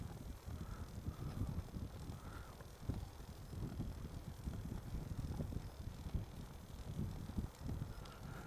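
Wind blows outdoors while someone rides a trike, heard as a continuous low rumbling roar with gusty swells, close and steady throughout.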